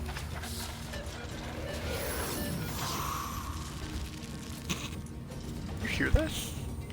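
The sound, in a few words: robots moving and clanking in the video game Divinity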